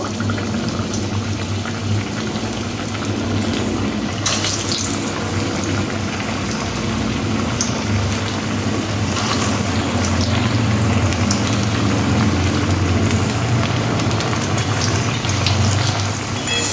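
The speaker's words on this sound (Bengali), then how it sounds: "এরপরে তেলের মধ্যে একটা একটা করে দিয়ে একদম মুচমুচে লাল লাল করে ভেজে নেবো" Boiled egg chops frying in hot oil over medium-low gas, a steady, dense sizzle and bubbling that continues without a break, close and even in loudness.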